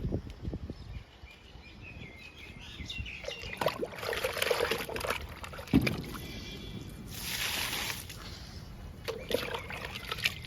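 Pomegranate liquid fertilizer poured onto potted garden plants such as purple heart and croton, with close trickling and sloshing of liquid in a few uneven bursts amid light handling noises.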